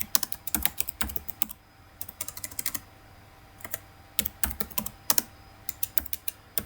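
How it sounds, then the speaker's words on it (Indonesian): Steady typing on a computer keyboard while writing a Microsoft Word document, with close, crisp key clicks arriving in quick bursts separated by short pauses. "saya akan melanjutkan mengetik terlebih dahulu"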